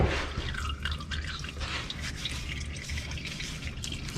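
Transmission fluid drips and trickles from the pan of a Toyota Hilux automatic transmission, a continuous close liquid spatter over steady workshop hiss.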